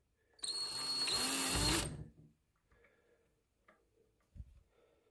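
A power drill fitted with a Phillips bit drives a screw into an Explorer-style guitar kit, giving one loud whirring burst of about a second and a half, then a brief whir. Softer handling clicks and knocks follow.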